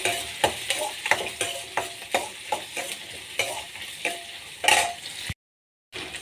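Onions frying in a pan for vangibath, stirred with a spatula in a steady rhythm of scraping strokes over a constant sizzle, up close, with a brief silent gap near the end.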